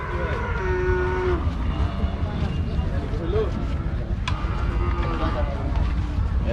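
Cattle lowing at a busy livestock market, loud and close, with several drawn-out moos rising over a constant crowd murmur and people bargaining nearby.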